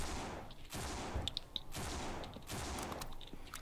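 Gunfire in the zombie survival video game No More Room in Hell, rapid bursts of shots cracking in clusters over a few seconds, moderately close within a busy game soundscape, with no talking.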